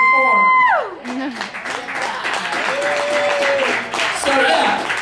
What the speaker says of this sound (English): they came to watch and they're clapping for me